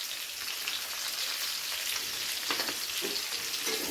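Mixed vegetables with chopped ginger and green chilli fry in a hot pan, a steady, close hiss of sizzling oil with occasional stirring rustles near the end, no voices.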